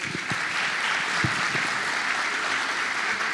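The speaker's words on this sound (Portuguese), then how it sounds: "Uma salva de palmas." An audience at a Brazilian talk event gives a sustained round of applause for a guest speaker being invited up, an even, steady clapping sound throughout with a few louder individual claps standing out.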